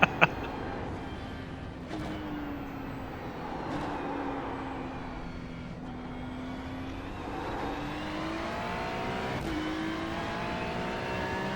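A Ferrari race car engine in the iRacing simulator at the Nürburgring holds a steady drone whose pitch dips and climbs through gear changes, continuous and moderately loud, with a couple of sharp clicks at the start.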